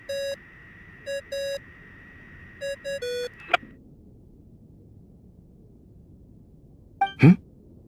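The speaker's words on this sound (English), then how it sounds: "I really hate that ringing tone." A phone ringtone in the video game Genshin Impact sounds as a run of clean electronic beeps in a stuttering pattern, then goes quiet until a single soft thump.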